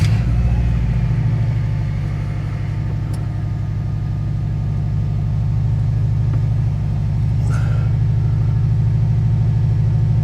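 A freshly rebuilt Subaru engine in its car fires up after a short crank, settling into a loud, steady low idle with a smooth, even drone and a couple of faint clicks over it.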